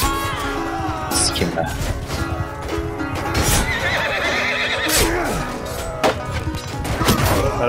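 Horses whinny and neigh amid a 60-versus-60 siege battle in Mount & Blade II Bannerlord, with hoof clip-clops, thwacks and crashes of combat layered over battle noise and talk.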